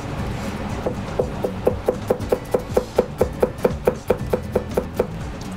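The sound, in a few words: knife finely chopping garlic on a cutting board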